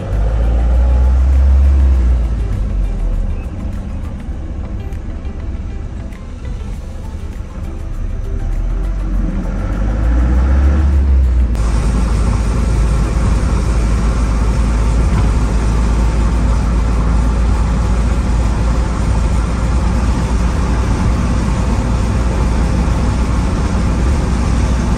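A pickup truck cruising on the Mumbai-Goa highway in India, with a steady loud road and engine rumble throughout and a brighter burst of wind and tire noise partway through.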